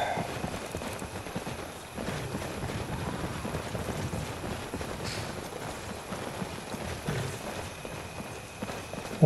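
Horse-drawn cart in the video game Skyrim, steady clip-clop of hooves at a moderate walking rhythm, fairly quiet and close, with a faint background hum and no talk.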